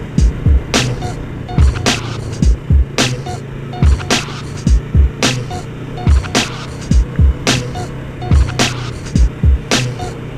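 Motorcycle ride along a road through a scenic area lined with houses, recorded from the bike: a steady low engine drone runs throughout, broken by regular loud thumps and buffets. No one speaks.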